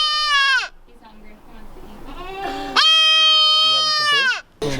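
A baby goat at a vet's, due for disbudding, lets out loud, close, drawn-out bleats, one short cry followed by a longer wavering call, with a hungry bleat starting just at the end.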